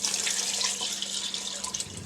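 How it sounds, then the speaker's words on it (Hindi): Chicken stock and water pour steadily into a pot for yakhni pulao in a continuous splashing stream, close by and fairly loud, with no voices. "अब मैं इसमें यखनी डाल दूँगी और थोड़ा सा पानी डालूँगी"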